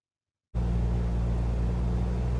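Light aircraft engine droning steadily in straight and level flight, starting abruptly after a brief silence, then holding a loud, even hum with no variation in pitch or rhythm.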